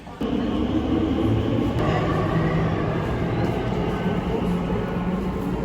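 Steady low rumble of a train running through an airport rail station, with a continuous rail hum and a sharp onset near the start.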